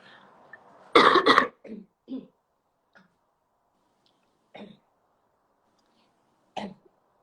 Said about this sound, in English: I've got a bit of a cough and it's just kicked off there.